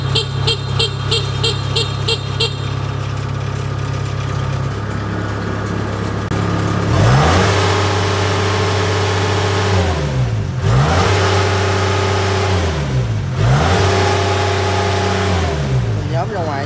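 A used Kubota DC70 Plus combine harvester with 429 hours runs loudly up close, its engine idling steadily and then revving in three strong, surging pulls that rise and fall in pitch.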